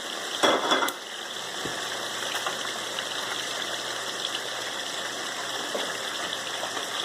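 Mushroom and celery sizzle steadily in a pot for peanut butter stew, a constant hissing fry that follows a brief clatter as the vegetables go in.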